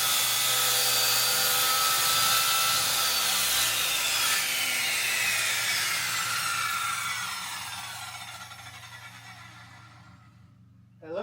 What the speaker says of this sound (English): Alright, I got my saw set to 3/4 of an inch. We're going to get cutting.